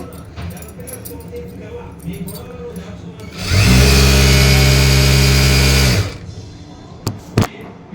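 An electric sewing machine stitching blouses in a tailoring shop runs in one loud, steady motor burst of about two and a half seconds, close by, with faint voices and small clatters before and after.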